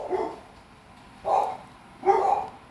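A dog inside a room gives three separate barks, one at the start and two more after a pause, each close and moderately loud, against a quiet background.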